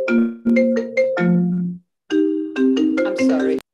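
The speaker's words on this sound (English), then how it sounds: "of course the phone never rings unless" A phone rings loudly during a sanitation committee meeting, a melodic electronic ringtone playing two bursts of several tones separated by a brief pause, with no talk over it.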